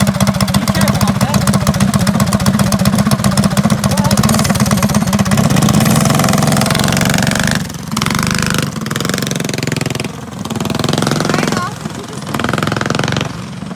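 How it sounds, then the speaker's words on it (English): A mini bike engine runs loudly and steadily at close range, then its level dips and swells as the ride carries it off and back, with people talking over it. "Waiting on Steve to return from his little bike adventure"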